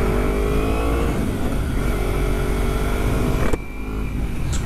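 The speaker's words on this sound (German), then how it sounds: "Ein F-Type, der V8?" A Jaguar F-Type V8 sports car with four exhaust pipes, its engine revving loudly and steadily close by, with a brief sharp drop-off near the end.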